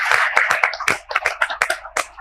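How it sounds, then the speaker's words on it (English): A small audience at an Oberoi alumni gathering claps for about two seconds. The claps are sharp and scattered, and nobody speaks over them. "big round of applause"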